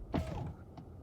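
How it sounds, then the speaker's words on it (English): A Tesla Model S door swings shut with a brief creaking mechanical sweep followed by a short muted click, close by and fairly quiet. "Pretty nice door close"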